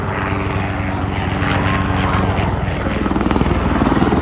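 A rescue helicopter's loud, droning engine and rhythmic rotor chop fill the air during a demonstration at Lemoore Naval Air Base, the thumping beat growing stronger and more pronounced toward the end.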